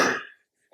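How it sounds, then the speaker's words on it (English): A single short, close cough from a man, a sharp burst that quickly fades into silence, with a faint thump at the end. "Oh, excuse my coughing."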